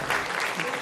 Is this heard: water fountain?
no